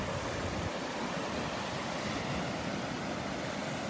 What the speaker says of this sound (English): I just love standing here listening to the waves.